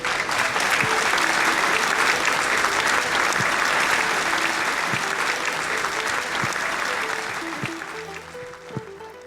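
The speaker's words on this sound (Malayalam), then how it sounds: "നല്ലൊരു കയ്യടി നല്ല കയ്യടി" An audience at a book launch claps in a loud, dense, sustained burst of applause. It holds steady for several seconds, then tapers off near the end.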